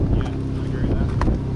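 Aston Martin DB11 V12 engine, a steady deep rumbling drone with wind-like rush, brief and continuous.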